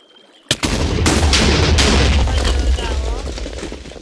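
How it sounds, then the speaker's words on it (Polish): A sudden loud blast from Minecraft TNT bursts in, followed by a sustained roaring rumble of explosions and crackling debris that slowly tapers off. "Wylatuje w powietrze TNT"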